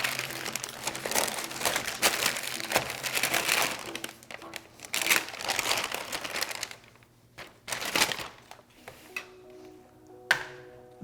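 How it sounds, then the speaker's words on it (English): Plastic wrap being pulled off a three-rib roast, giving irregular close crinkling and crackling bursts with short pauses between handfuls. "So let's unwrap it and take a look at it."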